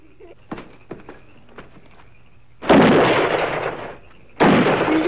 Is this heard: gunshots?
yes